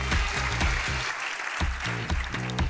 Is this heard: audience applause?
yes